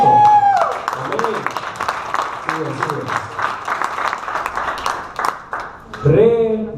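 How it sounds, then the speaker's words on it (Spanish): Audience applause at a church youth week gathering, a burst of clapping from the congregation mixed with voices and calls, fairly loud and close throughout. "Un aplauso."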